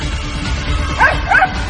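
A small dog yips and barks from inside a closed store room, giving two brief, high cries over a steady low background rumble.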